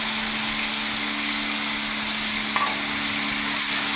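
Mustard paste frying in a pan gives a continuous, dense sizzle over a low steady hum, close and fairly loud, with no talk.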